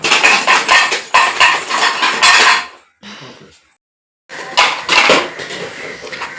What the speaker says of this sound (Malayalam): അങ്ങനെ പാത്രങ്ങൾ, കുക്കറ്, കലം, അതിനകത്ത് നമ്മൾ കൊച്ചു കൊച്ചു പാത്രങ്ങളൊക്കെ ആക്കിയിട്ട് അതെല്ലാം കൂടി ചാക്കിനകത്തോട്ടാക്കണേ